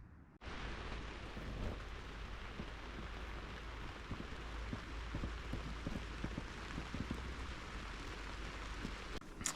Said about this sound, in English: It's raining and the sound of the rain is really nice and relaxing.